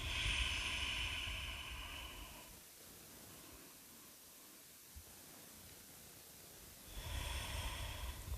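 Slow deep breaths held in yoga child's pose during a session for golfers, a long soft inhale-exhale hiss at the start and again near the end with a quiet pause between, close and steady.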